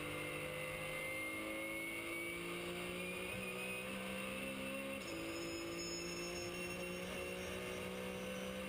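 Race car at full throttle on the limiter at over 285 km/h along a main straight in heavy rain, a steady loud in-car engine drone with constant spray and rumble and a brief shift partway through.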